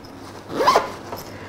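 A single quick zip as a zipper on a bag compartment of an urban apartment bug-out bag is pulled open, close and fairly loud, with no talking.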